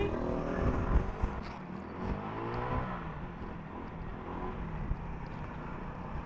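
Honda Click scooter accelerating hard, engine whir rising steadily with wind rush over it, close and fairly loud, with a few bumps along the way.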